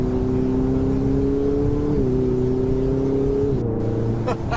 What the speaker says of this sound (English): you also get the little turbo whistle. It sounds so good, and just casually upshifting